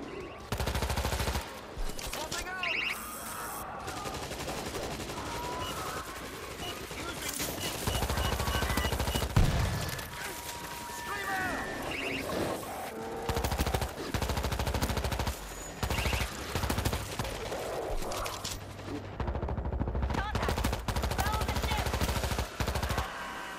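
An automated turret in a Kamchatka combat game sprays long bursts of machine-gun fire, joined by other weapons and explosions, loud and dense with brief lulls across the stretch.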